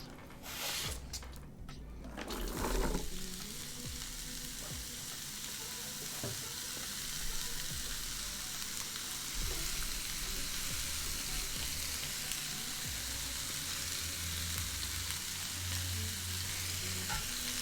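Onions frying in olive oil in a pan over medium heat, a loud steady sizzle after an initial clatter as they go in, continuing close and unbroken.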